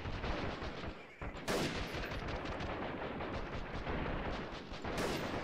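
Grenades burst over and over in a hectic video game firefight, dense overlapping blasts and gunfire making a loud, continuous wall of noise with two sharp flares of explosion.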